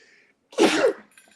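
A single sharp sneeze, close and fairly loud, bursting out after a brief quiet moment.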